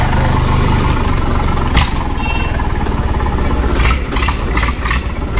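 A Massey Ferguson 1035 tractor engine idles loud and close, a steady throbbing diesel rumble with light mechanical clatter that holds throughout.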